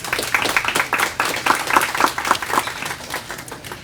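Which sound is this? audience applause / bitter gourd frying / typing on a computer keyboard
audience applause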